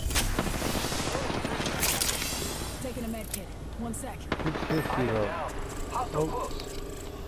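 Charge rifle fire in the Apex Legends video game, dense bursts of gunshots and rattling fire through a noisy firefight, with a voice talking under the shooting.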